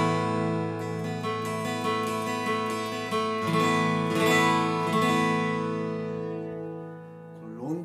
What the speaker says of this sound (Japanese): この中高音も本当に素晴らしい音色でございますね。